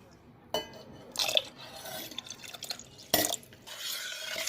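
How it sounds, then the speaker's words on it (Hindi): Half a cup of water poured from a large steel cup into a pot while making Rajasthani maize raabdi, heard as a few bursts of splashing and trickling with light metallic clinks, fairly close and alone. "तो ये बड़े साइज का स्टील का कप है, तो इसमें से आधा कप पानी और मैं इसके अंदर डालूंगी।"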